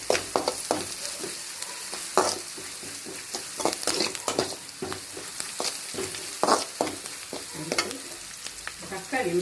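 Onions sizzle and fry steadily in a hot pan on high heat, with occasional stirring scrapes and clinks throughout.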